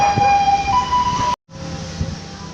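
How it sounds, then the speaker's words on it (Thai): A loud emergency vehicle siren wails as it passes close by on the street, a steady high tone with rumbling traffic underneath, briefly cut off before the siren continues more faintly. "รถ ไซเรนนี่ผ่านตลอดครับ ทุกวัน"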